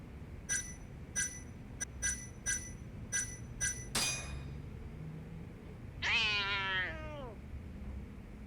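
A run of bright bell-like chimes in a video game gives way to a drawn-out cat meow with a rising-falling tone, fairly clear over low background noise.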